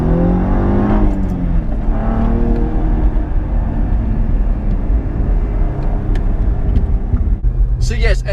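A 2017 Cadillac ATS-V's twin-turbo engine pulls hard with a loud, rising roar and whir of acceleration heard from inside the car, constant throughout.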